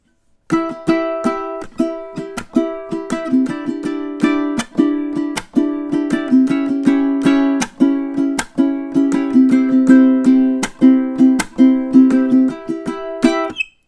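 A ukulele strums a bright, repeating rhythm of quick down and up strokes, close and clear, with chord changes partway through.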